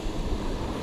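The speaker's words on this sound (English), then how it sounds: "watch this big wave hit the rock," A big ocean wave crashes against a rock on a tropical coast while out fishing, a loud, dense wash of surf with wind buffeting the microphone, continuous and close.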